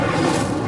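Incendio fire spell cast in Hogwarts Legacy: a brief, dense roaring burst of flame, loud and steady throughout.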